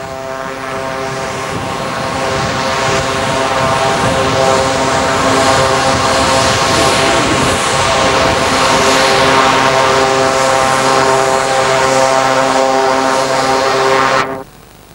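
A Tiger Moth biplane's propeller engine drones steadily at close range as it taxis past at an aerodrome, its pitch holding, then cuts off abruptly at the end.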